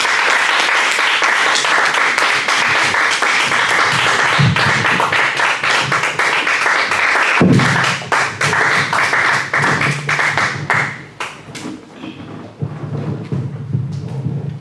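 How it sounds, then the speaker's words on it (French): A church congregation applauds loudly to welcome a prophet, sustained dense clapping with sharp rhythmic claps and some voices, dipping briefly near the end before picking back up. "Et sous vos acclamations, nous recevons le prophète Jésus."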